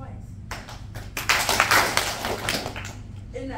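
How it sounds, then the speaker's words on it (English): Hands clapping in a classroom as a storyteller and a group of pupils clap together, a few sharp claps rising into a brief burst of applause-like patter over a low hum, with background voices. "When you are ready to listen, you'll clap your hands twice."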